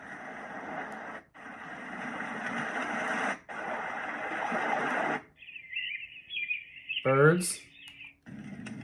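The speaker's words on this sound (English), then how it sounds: "Birds." A plastic DreamSky sound machine plays a birds track: after several seconds of broadband rushing noise from other tracks, bright chirping and warbling bird calls sound for about three seconds, close and clear.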